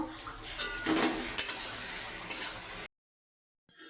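A lid is lifted off a pot of pui shak cooking with fish head, giving a few close metallic clanks and rattles over a faint hiss before the sound cuts to silence.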